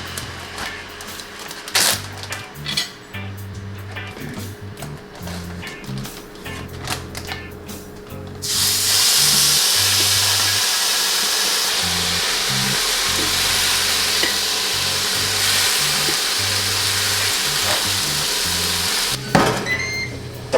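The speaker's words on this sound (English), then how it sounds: "I'm going to put it on the grill," Marinated amberjack fillets sizzle and crackle on a grill, a dense steady frying hiss that swells loudly partway through and holds close, with scattered ticks and pops over it.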